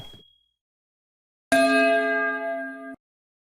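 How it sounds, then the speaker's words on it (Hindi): A phone plays its SMS notification tone as an OTP message arrives during internet banking. A single bright, bell-like chime rings out clearly for about a second and a half after near silence, with a brief faint sound at the start. "OTP आ गया, आपने मैसेज सुन लिया होगा टोन टीप की"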